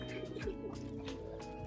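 Pigeons coo softly in a two-storey pigeon house kept on the upper floor of a small room, a low steady murmur of overlapping calls with a faint buzz beneath, no talking.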